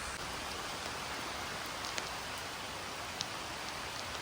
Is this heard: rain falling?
yes